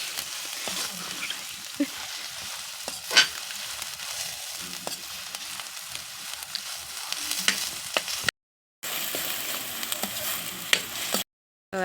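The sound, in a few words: onions frying in a pan on a clay stove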